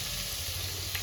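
Cumin and chilli paste hit hot oil in a pan, giving a dense, steady sizzle that stays loud and close with a low background hum and no voices.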